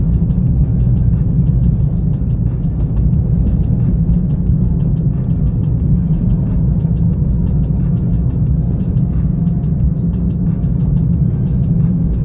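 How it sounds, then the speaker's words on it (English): A car driving uphill on the throttle on a mountain road in Big Bear after a late-April snowfall, with a steady, loud low engine drone and road rumble that holds constant throughout, no voices. "I'll give it some throttle as we go up the hill here"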